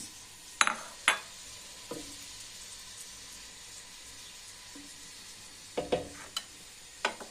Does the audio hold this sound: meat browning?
yes